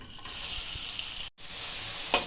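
Green chillies and onions frying in hot oil for egg rice, giving a steady, close hiss of sizzling with a brief break partway through.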